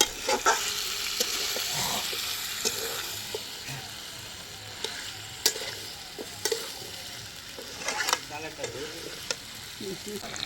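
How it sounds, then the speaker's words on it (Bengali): Chicken and potatoes fry in spiced oil, giving a busy, continuous sizzle close up, punctuated by irregular clacks and scrapes of a spoon stirring through the pan; nobody speaks. "এই তেলেই ভাজা হয়ে যাবে, এই তেল মশলা মাংসের সঙ্গে কষা হয়ে যাবে।"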